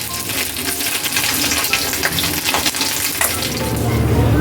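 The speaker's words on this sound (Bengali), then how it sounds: "লাল করে মচমচে করে ভাজা হয়ে গেছে" Catla fish heads fried red and crisp in oil give off a steady, loud, close crackling sizzle with small irregular pops.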